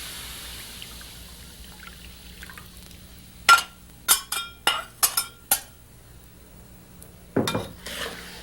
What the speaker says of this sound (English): Let's add our salt and our coconut milk.